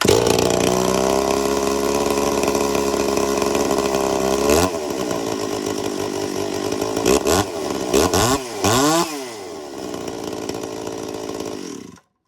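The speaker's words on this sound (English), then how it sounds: "if you let the saw sit for a minute or two, I'd bring it to high idle like this" A chainsaw engine held at high idle to warm up: a loud, close, steady buzzing drone with a few quick revs rising and falling, ending in sudden silence as the engine stops.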